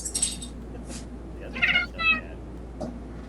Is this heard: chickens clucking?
no